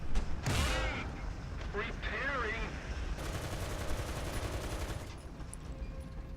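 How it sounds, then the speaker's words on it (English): Tank cannon shells ricochet in War Thunder: loud gunfire bursts with rising and falling whistling tones, followed by rumbling impacts. "Just getting ricochets off him."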